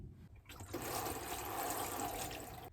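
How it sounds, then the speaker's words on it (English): A watering can fitted with a rose sprinkles water evenly over a pot of growing medium before sowing Sarracenia seeds, producing a steady, fairly close pattering shower that starts after a brief pause and continues without talk. "now you're going to use a watering can with a rose to water this"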